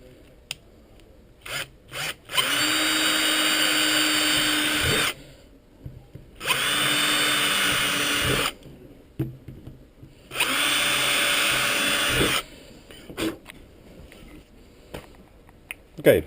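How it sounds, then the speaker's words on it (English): A power drill boring rivet holes for a flush mount rod tube, three sustained whining bursts of about two to three seconds each, close and loud, separated by short pauses filled with handling clicks and brief talk. "we've got our holes drilled out for our rivets now"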